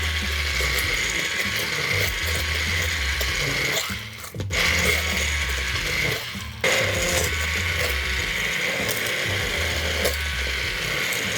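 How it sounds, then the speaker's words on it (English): An immersion blender motor whirs steadily for several seconds while pureeing applesauce, dropping out briefly twice before running again, loud and mechanical with a gritty texture. "if you are using the immersion blender for the first time"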